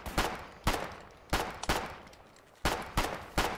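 Rifle fire in the Foxhole video game rings out in about seven sharp, separate shots at irregular intervals, each crack loud and close with a short decaying tail, alone without talk.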